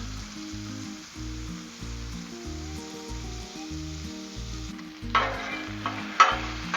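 Bacon sizzling on a Blackstone griddle, a steady close fry with a rhythmic low pulsing underneath and a few louder scraping clatters near the end, no speech.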